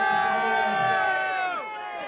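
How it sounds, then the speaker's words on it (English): Crowd noise at a Saturday night boxing event in Swindon, a dense, loud hubbub of many voices with cheering and shouts, close by and continuous, with a nearby voice rising over it toward the end. "We're right in the crowd here at Swindon."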